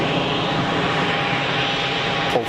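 An easyJet plane departing Geneva Airport, a steady broadband jet roar that holds loud and even from start to finish, with no voices over it.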